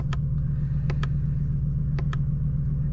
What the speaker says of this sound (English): The exhaust note there, obviously pumped through a little speaker inside here.